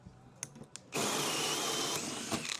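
Power drill fitted with a Spyder hole saw cuts a hole, starting after a few taps and clicks into a loud, continuous grinding whir that runs steadily close by for nearly two seconds, without talk.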